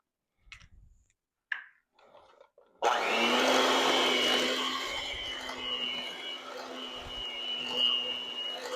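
An electric mixer whirs steadily, beating cheesecake batter with eggs, a close, continuous motor hum with a droning pitch, preceded by a few brief knocks and clatters.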